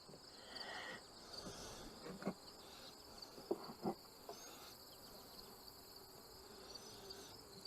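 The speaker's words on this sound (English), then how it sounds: "Bees chilling out, making honey." A steady, low insect drone fills the background, with a few brief louder touches; no voices, a calm outdoor hum of honeybees buzzing at a small hive box.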